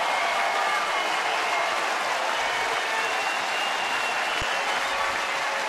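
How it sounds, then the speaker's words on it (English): A baseball stadium crowd roaring and applauding during a Tigers game in Detroit, a dense and steady wash of cheering that holds loud and even throughout, with no clear voice standing out above it. "Here comes the crowd."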